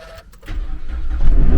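A car's weak starter cranks as the engine is started, a short rising mechanical whir that builds in loudness over a low rumble.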